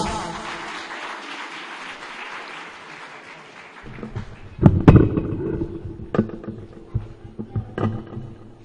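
An audience at a speech competition in Pakistan applauds as a speaker is welcomed to the stage, a steady wash of clapping for about four seconds that then thins into scattered louder claps and a few sharp bangs.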